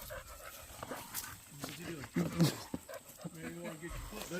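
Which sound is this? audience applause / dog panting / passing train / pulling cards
dog panting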